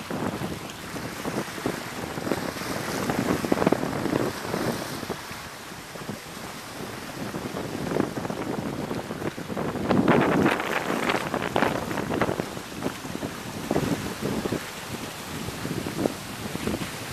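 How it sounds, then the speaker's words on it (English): Strong, steady wind in Miami ahead of Hurricane Bonnie, roaring and buffeting the microphone in continuous gusts, with louder surges throughout. "there is a wind. It's blowing quite hard, but it's just not here yet"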